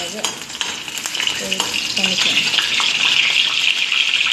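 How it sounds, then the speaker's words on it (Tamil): Chillies, urad dal and chana dal fry in a pan with a continuous hissing sizzle that grows louder midway, broken by stirring scrapes and brief clatters near the start. "உளுந்தும் கடலப்பருப்பும் எடுத்து போட்டு வதக்கிட்டு இருக்கிறேன்"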